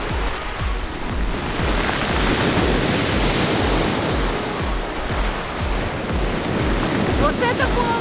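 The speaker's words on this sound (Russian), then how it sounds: "Вот это волны сегодня!" Sea waves break repeatedly on the beach of a bay at Ölüdeniz, Turkey, a steady close roar of surf with rhythmic surges and some wind, no one speaking.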